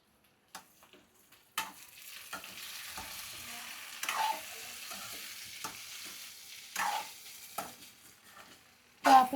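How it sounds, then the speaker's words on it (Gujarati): A spoon scrapes and stirs stuffed okra (bhindi) roasting in a pan, producing intermittent close scraping strokes over a faint sizzle, with short gaps of near silence between the stirs. "ફરીથી આપણે જોઈશું અને ફરીથી તેને આપણે હલાવી નાખીશું"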